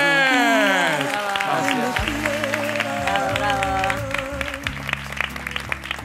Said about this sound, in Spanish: El aplauso para Andrés.